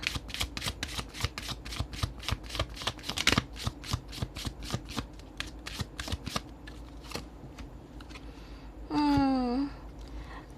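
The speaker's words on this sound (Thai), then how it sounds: "เดี๋ยวแม่หมอจะเปิดไพ่คำแนะนำให้หนึ่งใบนะคะ" Tarot cards being shuffled up close, a rapid run of crisp riffling snaps repeating for about eight seconds, then a short sliding swish as the deck is squared.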